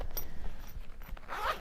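A zipper on a cosmetic bag with a mesh zipper pocket is pulled in short scratchy strokes, close and fairly soft, ending with a brighter, quicker zip.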